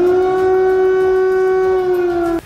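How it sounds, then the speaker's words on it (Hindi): Air raid warning siren wailing over Kyiv: one loud, steady tone with strong harmonics that holds level for a couple of seconds, then cuts off abruptly. "कीव में लगातार खतरे के सायरन बजने शुरू"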